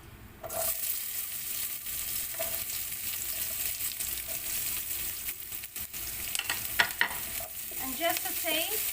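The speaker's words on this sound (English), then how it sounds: "And then now we to put our onion." Onion sizzling and frying in a pan with whole spices such as star anise and cardamom, a steady bright crackle with stirring scrapes, growing busier near the end.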